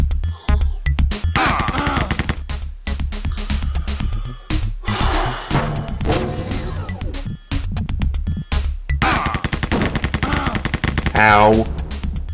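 Rapid machine gun fire from the Wolfenstein video game, dense bursts repeating nearly nonstop and loud, with a player shouting over the shooting now and then.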